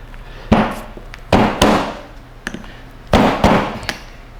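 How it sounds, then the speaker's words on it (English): Impact wrench on an aircraft alternator pulley nut gives sharp, loud bursts of hammering, about five short separate blasts at irregular spacing over a low steady hum, with no talking. "so I'm gonna use an impact wrench to take this nut off on the pulley."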